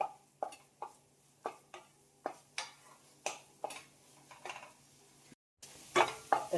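A spoon scrapes and stirs carrot barfi mixture with melted jaggery in a pan, about a dozen rhythmic strokes close by, a brief pause, then quicker stirring clatter.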